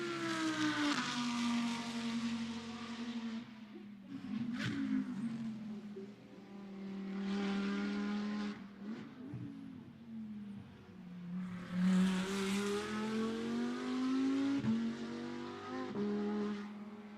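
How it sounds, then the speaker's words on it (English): GT2 race car speeding down the back straight at Misano during pre-qualifying for the 2024 Fanatec GT2 Europe: a loud, sustained engine roar that climbs in pitch through repeated gear changes, heard continuously without talk. "coming onto the back straight out of turn 10, speed building all the time here"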